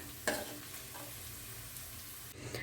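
Ivy gourd (dondakaya) pieces fry in hot oil, giving a steady, close sizzle with a brief stir or clatter near the start and no talking.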